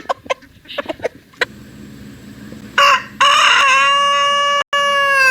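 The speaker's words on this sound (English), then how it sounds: "Chickens are very vocal birds" A few short hen clucks come first, then a rooster crows loudly and at length, a second long crow following close on the first.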